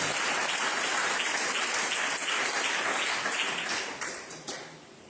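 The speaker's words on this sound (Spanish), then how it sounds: "Denle un fuerte aplauso al Señor." A church congregation applauds in a loud, dense wash of clapping that holds steady for several seconds, then thins and fades toward the end, a few last claps trailing off.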